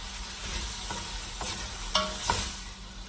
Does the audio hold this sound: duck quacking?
no